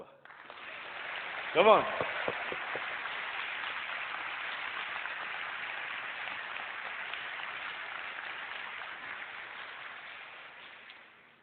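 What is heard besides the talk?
audience clapping at a church convention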